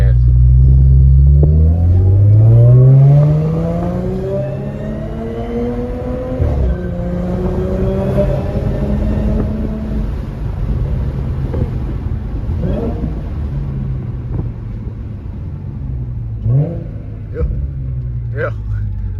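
Audi S5 engine pulls hard from inside the cabin, the rising engine note climbing through the gears with a deep rumble and wind roar, loud and close, with occasional voices.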